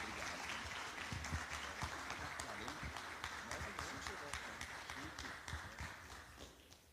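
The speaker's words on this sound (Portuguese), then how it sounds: "aplaudindo bem forte o nome do Senhor Jesus." Church congregation applauding to welcome the preacher at an evangelical service, a faint, steady patter of clapping with voices mixed in beneath it.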